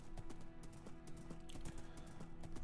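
Horse hooves clip-clop in a quick, steady rhythm while riding across the world of Minecraft, moderately faint and continuous, with no voices over them.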